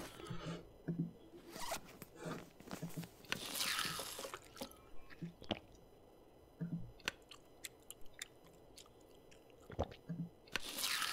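In The Long Dark video game, a character eats food, making a run of crunchy, zipper-like rustles and chewing bursts in irregular clusters over quiet background.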